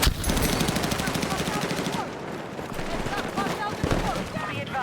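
Rapid automatic gunfire rattles in long bursts during a Battlefield 6 conquest match, loud and continuous, with a player talking over the shooting.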